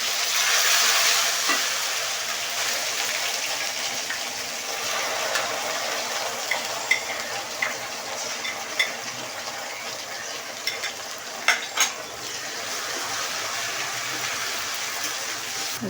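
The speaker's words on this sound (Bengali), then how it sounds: "এই যে সরিষা, সাদা সরিষা নিচ্ছি আমি।" White mustard seeds frying in hot oil for an olive pickle, a steady soft sizzle with scattered small pops and occasional scraping clicks from stirring, fairly quiet and continuous.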